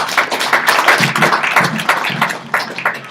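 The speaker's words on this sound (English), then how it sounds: "Another round of applause." Steady applause from a crowd at a launch ceremony, dense clapping filling the whole stretch, fairly loud and close.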